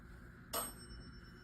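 A single bell dings once during a paranormal investigation, a brief, faint strike whose thin tone lingers in an otherwise quiet room.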